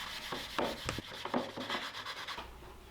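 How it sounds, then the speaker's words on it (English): A sanding sponge rubs wooden step stool edges in abrasive strokes that rasp back and forth in a quick, uneven rhythm, close up, then fade to quiet near the end. "I used a sanding sponge to soften all of the edges."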